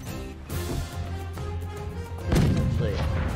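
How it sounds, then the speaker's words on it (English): A cannon fires in the video game Paint the Town Red, on a pirate-themed level. Heavy booming thumps sit inside a dense, continuous mix of game noise, with one stronger blast near the end. "Yeah, you can actually use the cannon."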